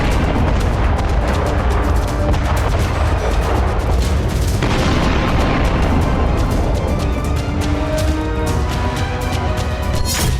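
Wartime missile strike explosions on a Russian city, a loud, continuous barrage of booms and rumbling blasts with sharp bursts layered over a constant roar, sustained for the whole stretch without any speech.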